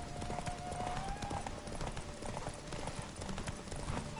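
Hooves of Roach, Geralt's horse in The Witcher 3, clip-clop steadily in a fast gallop through the game world, a continuous loud rhythmic pounding with ambient game sound underneath.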